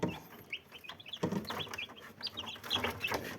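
Young Damluelan-line chicks in a brooder peep and chirp continuously, a soft, busy chorus of overlapping high calls with some low rustling, fairly faint and without talk.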